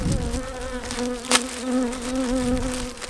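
Dense, steady buzzing of many honey bees close by at a hive, a continuous droning hum with no voices.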